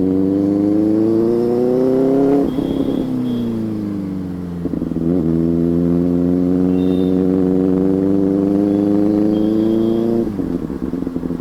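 Benelli motorcycle engine running while riding, a smooth steady exhaust drone that rises in pitch under acceleration, dips during gear changes around two and ten seconds, then climbs again, close and continuous with no talking.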